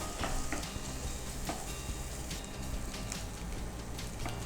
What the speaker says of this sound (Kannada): ಸ್ವಲ್ಪ ಫ್ರೈ ಆಗಬೇಕಿತ್ತು.